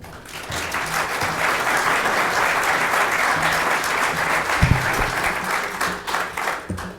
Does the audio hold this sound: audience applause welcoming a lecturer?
yes